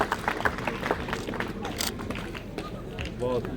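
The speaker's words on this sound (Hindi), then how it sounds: "जोरदार तालियां बजा करके पुनः अभिनंदन" Guests at a gurukul clap loudly for a visiting education minister. The applause is a dense, continuous patter mixed with crowd murmur and voices.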